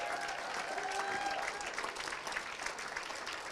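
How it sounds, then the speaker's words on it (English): Sustained audience applause at a live awards event, Spirit of Manchester 2024, with steady dense clapping throughout and a faint tone and murmur under it. "we'll need to keep clapping for a while"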